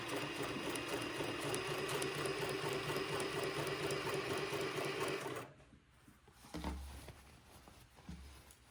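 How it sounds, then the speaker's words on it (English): A sewing machine stitching quilting fabric, a fast, even mechanical whir running steadily for about five seconds before stopping, followed by quieter handling sounds. "I'll sew my first one at about 1/8 of an inch away from the top of the body"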